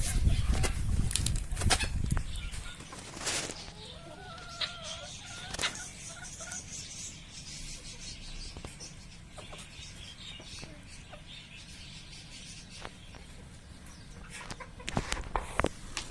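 Sultan breed chickens cluck and a rooster calls amid a farmyard, with scattered bird sounds and some shuffling noises, louder at the start and end.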